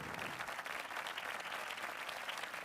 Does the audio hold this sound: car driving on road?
no